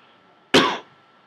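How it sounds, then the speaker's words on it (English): A single short, close cough bursts out sharply and then trails off quickly against a quiet background. "I don't know why I'm coughing so much today"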